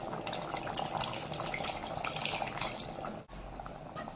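Tamarind water pours steadily into a cooking pot, a soft, continuous splashing trickle heard close by, which breaks off briefly near the end.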